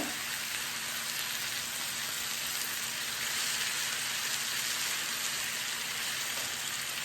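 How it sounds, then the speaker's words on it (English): Garlic frying in a pan makes a steady, even sizzle that holds close and constant for several seconds with no talking. "I want to make sure that garlic is cooked"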